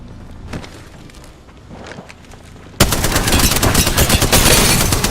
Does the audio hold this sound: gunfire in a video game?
yes